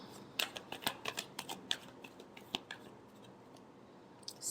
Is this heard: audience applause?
no